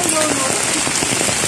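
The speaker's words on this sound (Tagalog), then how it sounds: "sobrang lakas ng hangin, ang lakas ng ambon pa ba to" Heavy rain and gusting wind from an approaching typhoon, a steady dense hiss of falling water with broadband wind roar, continuous and close throughout.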